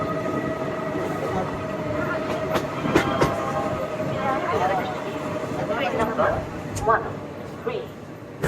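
Amrit Bharat Express train crossing the Farakka rail bridge, a loud continuous rumble of wheels with clattering rail joints and metallic squeals, heard from inside the train, with voices talking over it.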